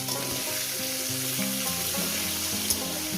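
Onion and whole green chillies fry in a pan with a dense, continuous close-up sizzle and hiss, steady in loudness throughout, with a faint tap of stirring near the end.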